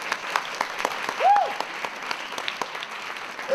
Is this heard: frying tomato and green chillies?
no